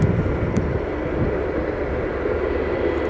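A British Airways Airbus A320 airliner arrives at Aberdeen Airport with a steady, loud, broadband engine roar that holds evenly throughout the short stretch.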